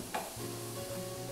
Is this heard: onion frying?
yes